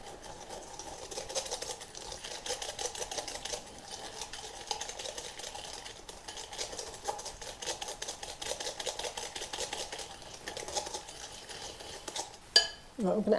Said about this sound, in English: I'm going to add the eggs and kind of just do a lot of whisking, get these all mixed in